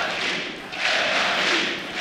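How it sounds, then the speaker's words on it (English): A home crowd cheers and roars for Ninjas in Pyjamas at an ESL One Katowice 2015 Counter-Strike grand final, a loud, sustained wash of arena noise that swells in the second half. "The home crowd cheering for the Ninjas in Pyjamas."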